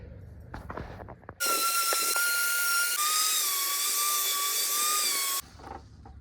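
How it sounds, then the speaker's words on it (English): An electric sander whines on cedar wood in a workshop, a steady high tonal buzz that starts abruptly, shifts pitch slightly midway, then cuts off, with scattered handling knocks before and after. "I'm gonna go ahead and bust out the sander for a little bit, just try to get this cleaned up"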